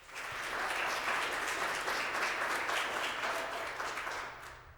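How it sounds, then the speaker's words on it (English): An audience at a school district governing board meeting applauds, a steady wash of many hands clapping that swells, holds for several seconds, then fades. "a round of applause for her."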